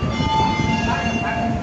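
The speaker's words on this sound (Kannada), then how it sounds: "ಟ್ರೈನು ಇನ್ನೇನು ಬರ್ತಾ ಇದೆ ನೋಡಿ." A passenger train arrives at a station platform, with a loud, steady rumble of wheels and cars and tonal squeals along the rails, close by and continuous, with no talk.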